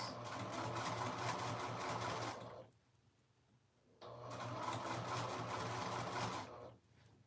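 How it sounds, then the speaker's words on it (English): A sewing machine stitches a 3/8-inch seam on a dress, running loud and steady for about two and a half seconds, pausing briefly, then running again for another stretch. "I'm sewing that down at a 3/8 seam allowance."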